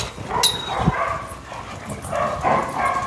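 Several dogs in a pack yip, whimper and bark in short, scattered bursts, with one sharp yelp standing out among the restless noise.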